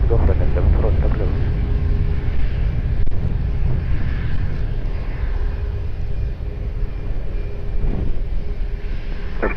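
A Ryanair airliner taking off from runway 20 at Lisbon Airport, a loud sustained jet engine roar and rumble heard from nearby, steady throughout with a radio voice from air traffic control layered over it.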